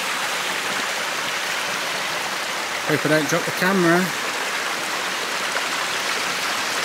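A waterfall on a climb up Helvellyn in the Lake District pours in a steady, loud broadband rush that fills the whole stretch, with a person briefly speaking over it partway through.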